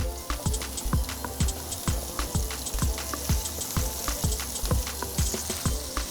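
Crushed garlic and onions frying in a drizzle of oil, with a steady sizzle and a regular run of close spatula knocks and scrapes against the pan, loud and without speech.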